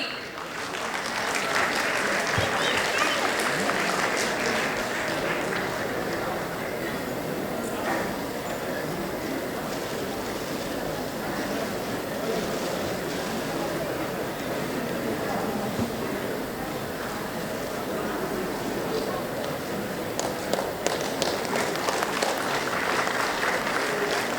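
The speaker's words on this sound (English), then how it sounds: "Please welcome with a big round of applause Dr. Shobhana Bagli." Steady, loud round of applause from a convocation audience at R G Kar medical college, dense clapping sustained evenly for over twenty seconds with crowd murmur underneath.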